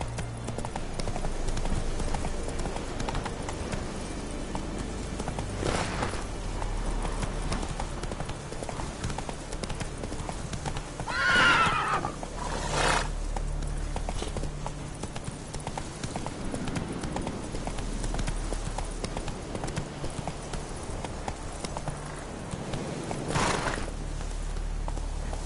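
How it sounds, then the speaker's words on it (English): A horse gallops in The Witcher video game, its hooves clip-clopping in a quick, even rhythm throughout, with a few louder accents and no clear neigh. "Run, Roach"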